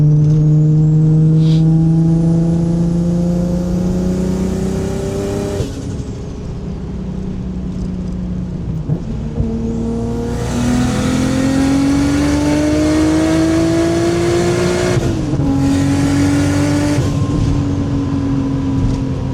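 A Nissan R32 GTR turbo engine revs loudly up close, rising in pitch through each gear, then dropping abruptly at each shift before climbing again.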